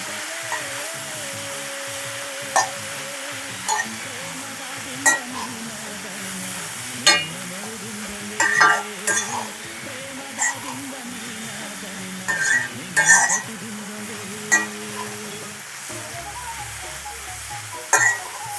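Legumes being stirred with freshly grated coconut in a pan for a Karnataka-style kaalu dish, with a steady low sizzle under repeated scraping and clinking of a spoon against the pan, close and moderately loud, with no talking.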